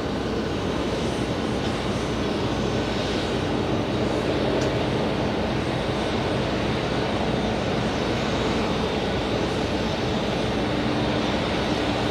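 Emirates airliner approaching JFK airport, a steady, loud jet roar held throughout without a break, broad and continuous with no voices over it.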